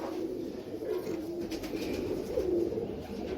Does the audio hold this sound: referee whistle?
no